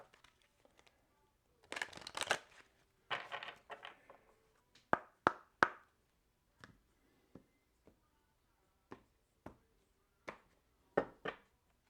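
Tarot cards shuffled by hand during a reading, heard as a couple of longer riffling bursts followed by a series of sharp, close card snaps and taps at irregular intervals, in an otherwise quiet room.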